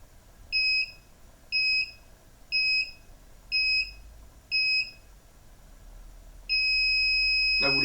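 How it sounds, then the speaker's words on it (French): An electronic beeper on a Rockwheel GT16 hoverboard during wheel recalibration sounds five short, evenly spaced high beeps, then a longer steady tone, clear against a quiet background. "vous allez entendre un bip"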